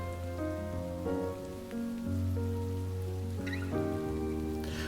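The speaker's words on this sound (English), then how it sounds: "The endless patter of rain on the streets creates a wordless song." Rain patters steadily on city streets in a game scene, a soft continuous wash that runs under a prominent melodic music track with sustained tones throughout.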